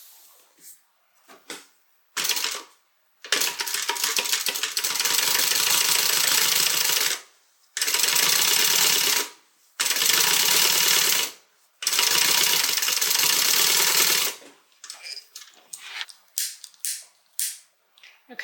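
A sewing machine topstitches a zipper laid flat on a crossbody bag, running in several separate bursts of fast, even mechanical chatter broken by short pauses, with light handling noises between runs.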